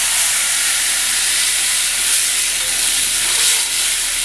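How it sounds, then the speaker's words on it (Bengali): Water poured onto fried moong dal in a hot pan produces a loud, steady steaming hiss that swells slightly and holds for several seconds, close and alone. "ডাল ভাজা হয়ে গেছে, এবারে জল দিয়ে দিচ্ছি।"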